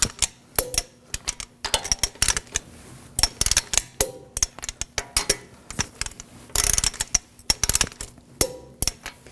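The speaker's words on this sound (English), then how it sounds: "Now we're gonna torque our wheel down to 80 foot-pounds on a star pattern." Repeated ratcheting clicks of a torque wrench tightening the lug nuts on a 2014-2020 Acura MDX wheel to 80 foot-pounds in a star pattern, coming in close, sharp bursts with short pauses between them.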